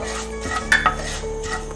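Cut dried red chillies drop into a pan of urad dal frying in oil, giving a brief clink of a utensil against metal and a quick stir over a soft sizzle, close and short.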